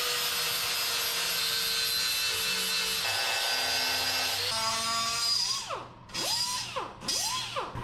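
A power tool grinds and sands down weld seams on a damaged aluminum U-Haul box body, a loud steady whine with rising and falling sweeps near the end as the tool is pressed and lifted.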